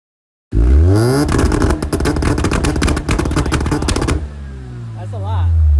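A Mazda RX-7 rotary engine fires up, then revs hard in a rapid, staccato burst of loud pulses for several seconds before dropping back to a lower, rougher idle, close and loud.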